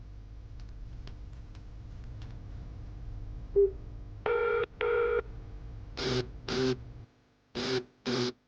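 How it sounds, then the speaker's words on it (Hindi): A phone call goes unanswered: a short burst of dialing tones, then several evenly paired ringback tones repeat clearly with short silences between them, and no one picks up. "फोन उठाओ मैम।"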